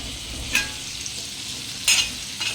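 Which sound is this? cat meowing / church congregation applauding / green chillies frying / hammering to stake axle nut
green chillies frying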